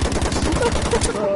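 Rapid automatic gunfire in the video game Battlefield V, a fast steady stream of close, loud shots lasting just over a second with no break.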